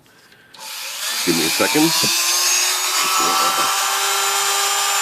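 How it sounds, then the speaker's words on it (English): A Dremel rotary tool whines steadily as it cuts a section off a plastic part during a welding repair, a loud high-pitched buzz starting after a brief pause and running continuously, with a short spoken remark over the start. "I'm going to cut a portion of this off here with the Dremel tool."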